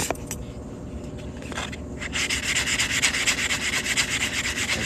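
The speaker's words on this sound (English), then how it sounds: "We're gonna sand this cut edge right here." Abrasive sanding on the cut edge of a silver coin ring made from a half-ounce silver Morgan round, a steady close rubbing scrape that starts lighter and grows louder and brighter halfway through, with no talking.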